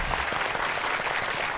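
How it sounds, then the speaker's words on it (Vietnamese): A studio audience bursts into dense, steady applause, loud and close throughout. "một tràng pháo tay"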